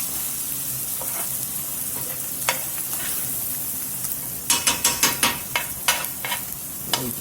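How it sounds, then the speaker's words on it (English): Flour stirred into leftover melted butter in a frying pan for pork gravy, a soft steady sizzle with a run of close, rhythmic scraping strokes growing sharper toward the end. "I've got some of this melted butter left. I'm going to get that in there. And we're going to get some of this flour that we dredged with in."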